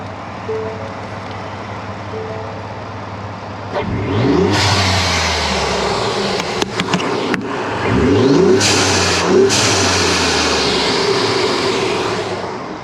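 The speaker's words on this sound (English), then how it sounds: "I'm gonna get some revs on it so you guys can hear the air intake and the blow-off valve." A 2015/2018 Ford F-150 with the 3.5 EcoBoost twin-turbo engine idles low, then two sharp revs swell up with loud turbo intake whoosh, each followed by a hissing blow-off valve release as the engine falls back.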